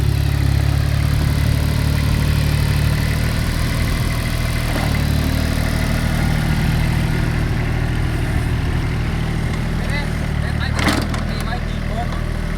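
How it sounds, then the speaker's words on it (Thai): A three-cylinder engine on a rice harvester runs continuously at a steady, loud, close rumble, with some voice faintly present beneath it. "เครื่องสามสูบนั่นเอง"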